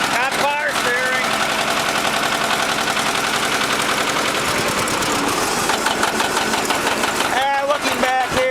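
A 1957 John Deere 720 diesel tractor with electric start runs steadily at plow speed, its engine chugging close and loud throughout, while a voice briefly cuts in near the start and again near the end.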